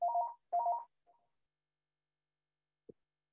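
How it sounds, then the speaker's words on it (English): A doorbell at home rings with two short tonal chimes in quick succession, fairly close and clear, followed by a faint brief tone and a soft knock-like click, with no talking. "someone's ringing my doorbell"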